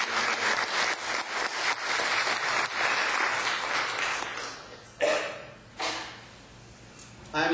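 Audience applause at a Bell County, Kentucky judge executive candidates debate, a dense wash of clapping that fades after a few seconds, followed by a couple of sharp knocks or taps in the room.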